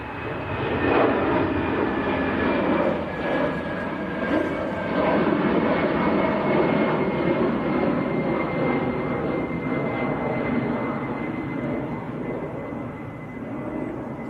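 A Lufthansa airliner departs Manchester Airport with a loud, sustained jet engine roar, heard from a spotting position as a broad steady rumble with a faint high whine that slowly eases off.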